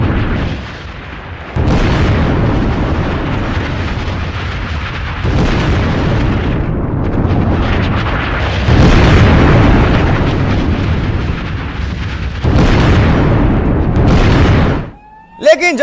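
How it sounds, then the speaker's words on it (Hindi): Recorded explosions from Israel-Hezbollah strikes sound as a series of loud, heavy booms and rumbling blasts in repeated surges, with brief gaps between them and a sharp cut at the end. "इस बीच एक बार फिर से आपको हम ये धमाके सुनाते हैं"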